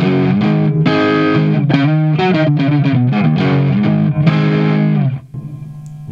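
An electric guitar runs through a Boss DS-1 distortion pedal with the tone knob turned all the way down, giving a dark, heavily distorted riff of loud chords and single notes that cuts off near the end.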